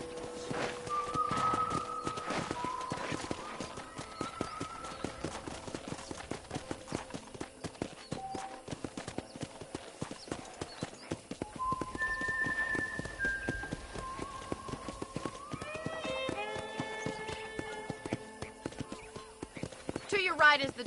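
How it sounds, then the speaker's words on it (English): Horse hooves clip-clop at a steady walking pace while riding in the video game Red Dead Redemption, with continuous talking over the hoofbeats and a few whistled musical notes. "I picked out a fine horse for you."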